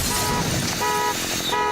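A truck horn honking, blared in repeated bursts with one sustained toot and two more blasts following, loud and close, with no one talking.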